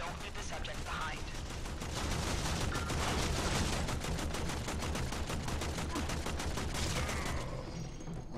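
Rapid automatic gunfire in the Warframe video game, dense bursts of shots rattling almost continuously for several seconds at close range, with brief quieter gaps.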